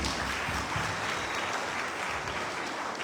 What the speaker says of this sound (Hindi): जोरदार तालियां उनके लिए बजाइए